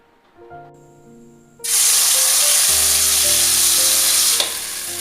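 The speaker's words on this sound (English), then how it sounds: "When the oil is nice and hot, add the bottle gourds that is marinated and let it be fried." Marinated bottle gourd pieces hit hot coconut oil in a pan, setting off a sudden loud sizzle that then holds steady and close, with soft background music throughout.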